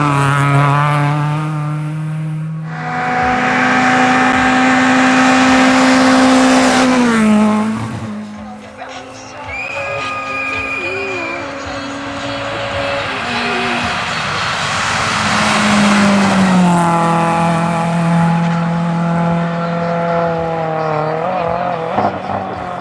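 Rally cars roar past on the Tartu rally course, loud engines howling through rising and falling gear changes as each car approaches, passes close and pulls away, with a second car following and voices faintly audible beneath.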